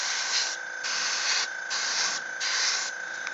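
Spray paint bursts from a can onto a GodTear dragon miniature: four short, even hissing blasts with brief gaps between them, loud and close, with no speech.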